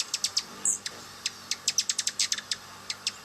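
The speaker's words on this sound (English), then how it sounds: "The bird of the week this week is the Rufous Hummingbird." Rufous Hummingbird giving a rapid series of thin, high chips in irregular bursts, fairly close and clear against a quiet background.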